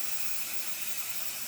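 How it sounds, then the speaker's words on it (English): A Power Cooker digital pressure cooker vents steam in a steady, even hiss lasting the whole moment, fairly quiet and uninterrupted, with no voices over it. "letting out some of the steam"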